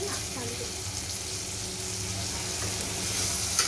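Bitter gourd sabji frying in a pan at home, a soft continuous sizzle with faint stirring scrapes, fairly quiet and steady throughout.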